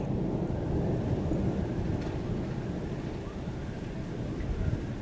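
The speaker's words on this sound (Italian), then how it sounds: "La tempesta di tuoni, ragazzi, tuoni e lampi." A thunderstorm in Quartu Sant'Elena, Sardinia, rumbles with deep, continuous thunder under heavy rain, a dense low roar that holds steady throughout.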